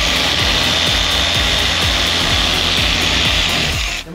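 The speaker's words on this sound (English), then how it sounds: "Kinda angle the polisher on it." A car polisher buffs out scratches on an Audi's paint, a loud continuous rotary whir with a rhythmic rubbing pulse that holds steady close by, then tapers off at the very end.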